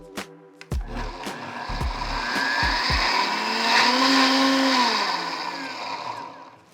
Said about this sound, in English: So I filled my blender with my spinach. I'm just gonna blend this down.